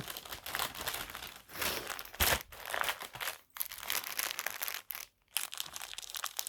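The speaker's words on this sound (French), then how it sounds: "Désolée pour le bruit du papier, c'est vrai j'aurais pu les ouvrir avant." Paper packaging of scrapbooking kits crinkles and crackles in bursts, close up and fairly quiet, with brief pauses between rustles; no talking.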